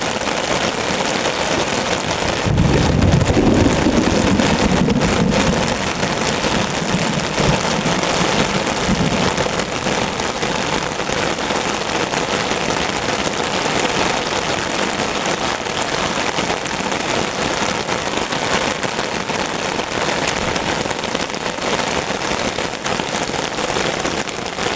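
Heavy rain pours steadily in the bush, a dense continuous patter on an umbrella and surrounding surfaces, loud and unbroken throughout, with a brief deeper rumble near the start and no talking.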